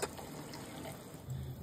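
Hot water is poured into a spiced gravy of yogurt and masala for prawn kofta, making a short, soft, steady splashing pour close by.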